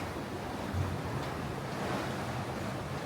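Big ocean swell and strong wind aboard a sailing boat off Iceland's coast, a continuous roaring wash of surf and wind buffeting the microphone, loud and steady throughout with no talking.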